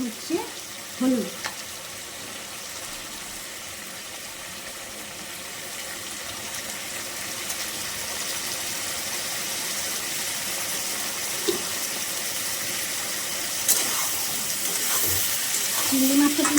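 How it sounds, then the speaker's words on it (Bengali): Shrimp sizzle in a pan after turmeric is added, a continuous frying hiss that builds louder over time, with a few knocks of a spoon or pan near the start and no voices. "চিংড়ি মাছটা কিন্তু একটু কমই ভাজবো, বেশি কিন্তু লাল লাল করে ভাজা হবে না।"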